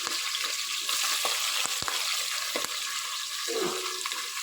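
Tomato pieces fry in hot oil with curry leaves and green chillies for tomato rice, a close, steady hissing sizzle broken by a few sharp stirring clicks and knocks, with no talking.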